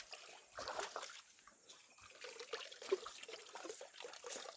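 Water in a shallow stream where oxen are drinking, faint irregular trickling and soft splashes at close range, quiet and uneven with no speech.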